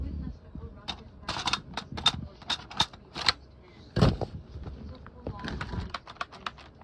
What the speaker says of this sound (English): This is a magazine pull.